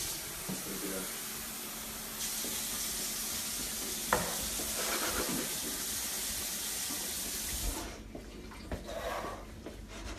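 Tap water runs steadily into an empty coconut milk can, rinsing it out over a kitchen background with sizzling. The flow shifts partway through and eases near the end.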